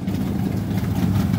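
A 1964 Ford Fairlane engine idles with a steady, deep, loud rumble and a slight rhythmic lope, heard up close.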